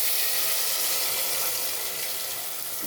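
Water poured into a pot of frying potatoes with cumin and mustard seeds, a steady close hiss and gush of liquid lasting throughout, easing slightly near the end.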